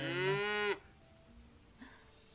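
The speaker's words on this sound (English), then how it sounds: "And we've got a cow that we can put in the barn." A cow in a farming video game gives one loud, drawn-out moo lasting under a second, rich and harmonic, followed by quiet game ambience with a small soft blip.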